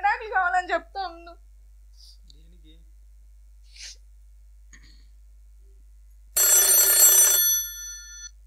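A telephone bell rings loudly for about a second near the end, after a short burst of talk and a few faint scattered noises in a quiet room.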